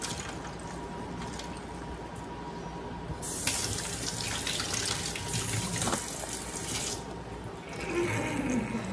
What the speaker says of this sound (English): officially, you're not supposed to rinse your turkey. I always do.